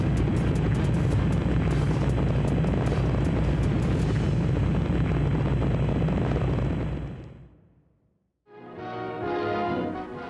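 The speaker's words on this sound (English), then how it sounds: "Liftoff. We have a liftoff." A rocket lifts off in a heavy, continuous roar that rumbles loud for several seconds, fades away, and then gives way to a faint crowd or background murmur.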